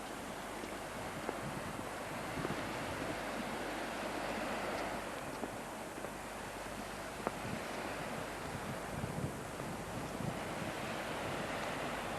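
Surf rolls onto Cabo Roig beach on a sunny November afternoon, a steady, faint wash of waves mixed with wind buffeting the microphone, no voices present.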